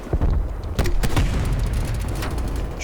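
The Regal Scepter firing single heavy shots in Call of Duty: Black Ops Cold War, a few loud separate booming reports with a low rumble between them.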